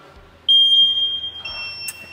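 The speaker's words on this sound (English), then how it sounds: "I don't know why they would even put that little buzzer in that chiller" Small alarm buzzer on a CO2 laser chiller, a steady shrill electronic tone that switches on abruptly and holds loud and close for the rest of the short stretch, with faint workshop noise beneath.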